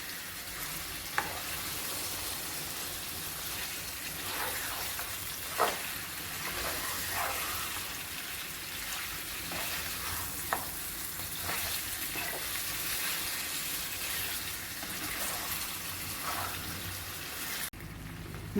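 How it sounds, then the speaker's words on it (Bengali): Beef pieces sautéing in a pan for a beef curry, a steady crackling sizzle with occasional stirring scrapes and a few sharp clicks throughout, no speech. "সাত থেকে 8 মিনিট ভালোভাবে কষিয়ে নিতে হবে মাংসগুলো।"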